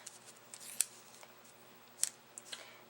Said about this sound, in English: So I'm just going to snip that real quick